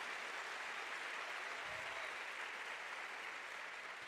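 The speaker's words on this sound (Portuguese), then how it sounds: "Dale bien fuerte ese aplauso." A church congregation applauds in a steady, dense wash of clapping that holds at an even level for the whole stretch, with a faint voice briefly rising through it.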